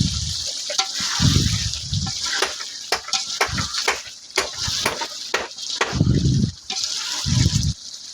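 Water splashes and gurgles into a pot of sautéed meat curry in uneven bursts, mixed with sizzling and clattering.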